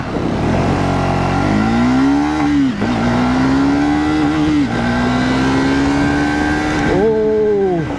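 A 2024 Triumph Speed 400 motorcycle runs through an acceleration test, its engine note rising loud and close through several gears, each upshift marked by a short dip before it climbs again.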